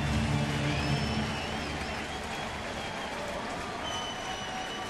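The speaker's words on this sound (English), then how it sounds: "Nice crowd here. They like this at bat for Joe Kelly." Crowd noise fills a baseball stadium during Joe Kelly's at bat, a steady broadband roar of spectators holding at a constant level for the whole stretch, with scattered whistles above it.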